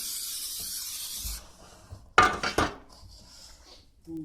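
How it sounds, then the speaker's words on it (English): Metal baking pans clatter and bang in a home kitchen during red velvet cake preparation, a loud burst of knocks and rattles after a hissy start, then quieter scraping. "The pans need to come out."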